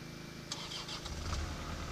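A 2018 Caterpillar 305.5E2 mini excavator's engine cranks briefly, then catches and settles into a low, steady diesel rumble, heard up close and moderately loud with no talk.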